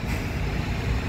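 A Pulsar bus pulls around the back of Middlesbrough bus station, its low engine rumble steady and close, with broadband road noise throughout and no voices.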